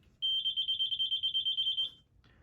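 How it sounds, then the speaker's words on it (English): A high-pitched electronic beeper on a Solinst interface meter, signalling its probe is in water, pulses rapidly in a steady, fast rhythm for nearly two seconds, clear and close, then stops. "When it is in water, it will beep rapidly like this."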